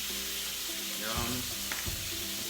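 Redfish frying in a pan, seasoned with garlic salt and lemon pepper, gives a steady close sizzle, with a brief scrape and rattle as the pan is shaken partway through.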